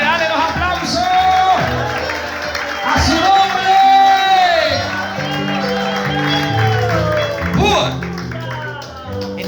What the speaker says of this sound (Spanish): Dale los aplausos